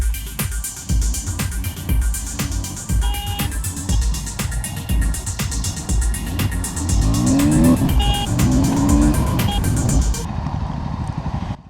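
A KTM Duke 160 motorcycle ridden through city traffic, its engine droning steadily and loudly throughout, with other traffic noise and occasional horn-like tones mixed in.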